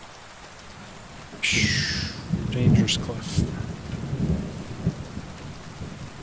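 Rain pattering steadily in Kingdom Come: Deliverance 2, broken by a sudden crack of thunder and rolling rumbles that fade back into the downpour, with a brief spoken line over it.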